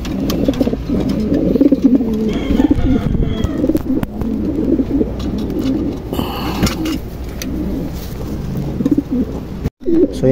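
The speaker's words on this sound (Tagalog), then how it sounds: "So yan, nandito na sila mga kalapatids." A loft of racing pigeons coos in a continuous, overlapping murmur of low, throaty calls at close range, with some fluttering and background noise.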